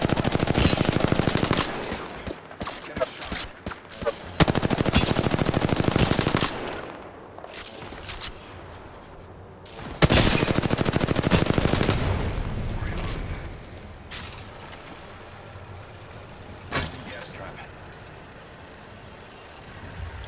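Rapid bursts of automatic gunfire and explosions from Apex Legends, loud and continuous, with voices occasionally speaking underneath.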